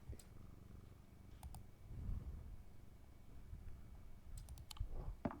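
Soft, steady purring from a cat in the video game Strange Antiquities continues at low volume, joined by scattered clicks and taps like keyboard or mouse presses, with no voices.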